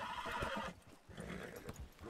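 A horse in the video game Red Dead Redemption 2 whinnies loudly and nearby after a gunshot, a shrill neigh in the first half over hoof clatter, with a second fainter call and more hoofbeats following.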